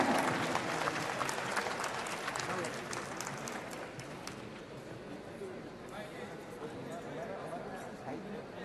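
Applause from the audience at the CJFB Performance Award 2024 ceremony after a special recognition award, a broad, steady wash of clapping with crowd noise that fades slightly and continues through the clip.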